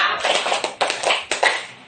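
A group clapping hands together in a counted rhythmic pattern at an Indonesian teachers' session, sharp clustered claps in quick bursts with brief gaps, close and fairly loud.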